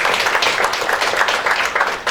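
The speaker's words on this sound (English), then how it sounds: "So please, a big round of applause to the Khan." Audience applause for a former soccer player at a soccer challenge launch event: dense, steady clapping from a crowd, fairly loud and continuous throughout, fading slightly at the end.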